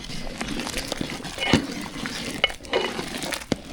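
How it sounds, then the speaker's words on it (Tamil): Spices stirred into vegetables for sambar, scraping and irregular clattering strokes of a utensil in a pan over soft frying sizzle, close by. "மசாலாலாம் சேர்த்தாச்சு நல்லா கலந்து விட்டுக்கலாம்"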